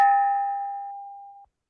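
A single bell strike for saluting the national flag, one clear ringing tone that decays smoothly over about a second and a half before cutting off, alone in otherwise silent surroundings.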